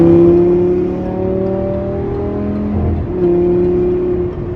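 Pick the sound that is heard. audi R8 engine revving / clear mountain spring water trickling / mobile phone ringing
audi R8 engine revving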